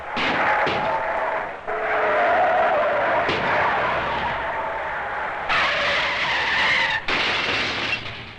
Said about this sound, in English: Most curious of all automotive sport, the demolition derby